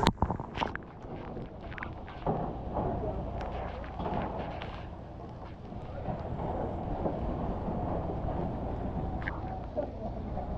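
Strong wind blusters across the microphone during a fire response in a barangay, a steady rough roar with gusty bumps, heaviest at the start, with scattered knocks and distant voices underneath.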